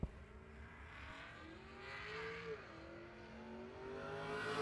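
A Pontiac G8 GT drag racing at a no-prep event at Muncie Dragway, its engine revving up through rising gear pulls, distant and faint, with no voices.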